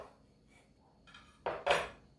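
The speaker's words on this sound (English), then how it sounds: "So I'm going to cut this right in the middle" A knife cuts through an oven-roasted brisket on a board, producing a couple of brief, close knocks and scrapes against a quiet background, with no voices.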